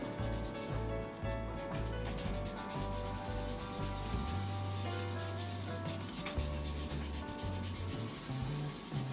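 Continuous close rasp of sandpaper on a hybrid resin shaving brush spinning on a wood lathe, with the motor's steady hum and shifting tones underneath, uninterrupted throughout.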